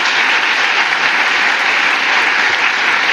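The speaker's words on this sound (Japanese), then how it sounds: "今一度大きな拍手をお願いいたします。" Steady, loud applause from a large audience at FC Machida Zelvia's 2019 new-squad presentation, continuous clapping with no talk over it.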